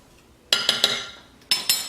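A spoon stirs a mixture of coffee grounds and sugar for a body scrub in a bowl. It gives a quick run of three bright clinks against the bowl, then a pause, then two more close and clear.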